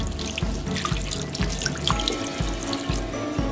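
A cup of water poured into a crock pot holding pot roast with cream of mushroom soup and onion soup mix, a steady close splashing stream with rhythmic glugging pulses, no talking.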